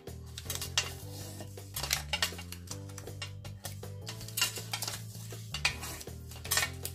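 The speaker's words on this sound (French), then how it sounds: "vous devez entendre à chaque fois mon bracelet sur la plaque en verre" A bracelet clinks lightly and repeatedly against a glass plate while paper is folded for a scrapbooking paper house. Small irregular taps and rattles sit over a steady musical background.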